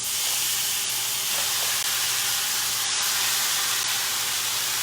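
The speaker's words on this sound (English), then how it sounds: "I'm going to put my ground beef in." Ground beef sizzling in a hot pan while cooking Bolognese sauce, a steady loud hiss that runs unbroken and close, with no talk over it.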